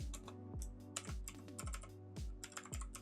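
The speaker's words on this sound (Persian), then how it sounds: "به همین صورتی که من تایپ میکنم شما هم تایپ کنیم" Rapid, uneven clicking of keys on a computer keyboard, heard up close and alone as someone types in steady bursts with brief pauses between keystrokes.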